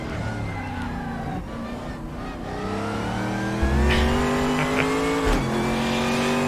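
A race car in the RaceRoom Racing Experience sim drives with a steady, loud engine note that climbs through the gears, with shifts and a brief tire squeal near the end, no talk.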